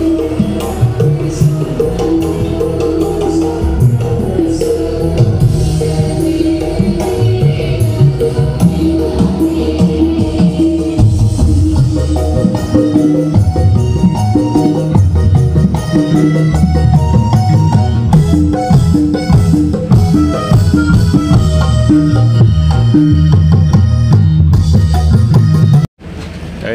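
A Dexo sound system with eight subwoofers blasts dense, bass-heavy music at full volume during a sound-system competition in Sidoarjo, playing continuously for about 26 seconds and ending in an abrupt cut.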